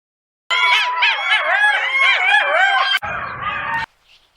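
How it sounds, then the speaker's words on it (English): Jackals howl loudly in a dense, overlapping chorus of rising and falling yips and wails, close and continuous, breaking into a second rougher burst before cutting off. "We heard the jackals howl loudly."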